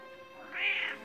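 A house cat gives a single soft, drawn-out meow, fairly faint, rising and fading over a quiet indoor background with no talking.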